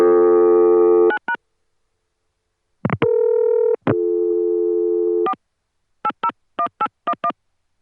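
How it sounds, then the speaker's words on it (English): Steady telephone tones cut in and out, including a dial tone from a Chicago CCSA network, broken up by short clusters of touch-tone dialing beeps, loud and clean with silence between bursts. "we will be left with the dial tone that they hear when they dial 8"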